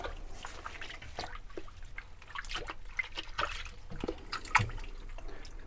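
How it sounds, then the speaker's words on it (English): Dried loofah sponges are tossed into water to soak, giving soft close splashes, drips and trickles, quiet and irregular with no talking. "let's go ahead and toss these all in, and we'll give them a good soak and a rinsing next"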